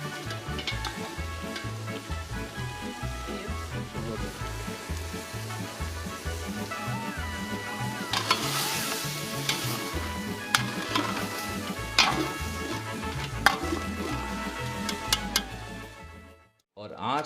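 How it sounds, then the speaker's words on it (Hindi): Meat searing with aromatic spices over high heat in a large pot for Kashmiri wazwaan, a dense continuous sizzle and crackle with occasional clinks and scrapes of stirring, close and steady throughout. "गोश्त को कुछ खुशबूदार मसालों में तेज आंच पे भूना"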